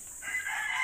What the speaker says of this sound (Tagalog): At ngayon, naglilimlim na rin po yung manok natin, na parang kwago.